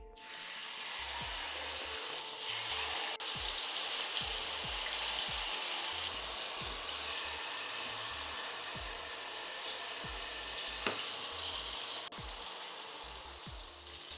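Green-marinated chicken breast fries in melted butter with a loud, continuous sizzle up close. Soft low knocks recur throughout, and no talk is heard.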